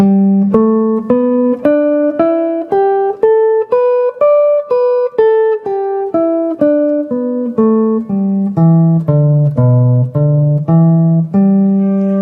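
Guitar notes climb a major pentatonic scale one at a time and descend again, evenly paced and clear, with no talking.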